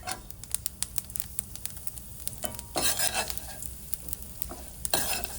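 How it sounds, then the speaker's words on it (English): Mustard seeds splutter in hot oil for a tadka, a rapid patter of sharp pops and crackles over a low sizzle, near and lively, with no talk. "The mustard has started spluttering."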